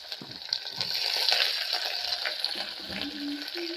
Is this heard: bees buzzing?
no